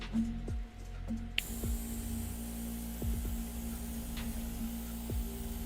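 An airbrush sprays dye onto a disc in a dye bed, giving a faint, steady hiss. The hiss starts after a quiet moment and sits over a low hum, with a few soft clicks.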